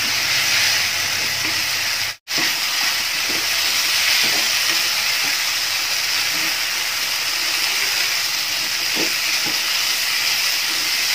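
Chicken 65 pieces tossed and frying in a Kerala-style masala, giving a steady, loud sizzle throughout with occasional soft scrapes of stirring and one brief dropout.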